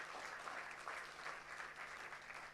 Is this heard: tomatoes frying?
no